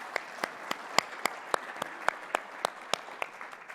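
Applause welcoming a panel at a conference, a sparse round of claps with distinct individual hand claps in a loose, uneven rhythm, moderately quiet and heard alone.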